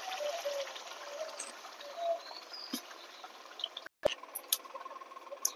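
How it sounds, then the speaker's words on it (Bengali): Water poured into a pan of mustard fish curry made with silver carp, a steady trickling pour with a light patter running throughout, close and fairly soft, with a brief break near the end. "এবার আমি এর মধ্যে জল দিয়ে দেবো।"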